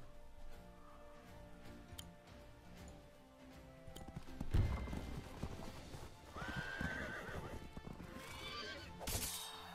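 Horses neigh and gallop in the strategy video game Wargroove, with clattering hoofbeats and a loud whinny around the middle, set against battle sounds and background music.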